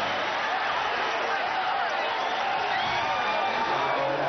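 Large arena crowd at the 1991 NBA championship clincher as the Chicago Bulls beat the Lakers on the road, a dense, steady roar of voices and cheering with scattered whoops, sustained and loud throughout.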